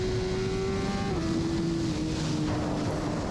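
A BMW S1000RR motorcycle leans through a curve, its engine note droning steadily and then dropping in pitch in steps as the rider eases off, with wind rush all around.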